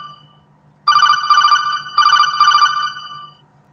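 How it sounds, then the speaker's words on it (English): A phone ringtone sounds loudly and close for an incoming call, playing two bright, repeating trill bursts with a brief gap between them, then fading out. "Incoming call."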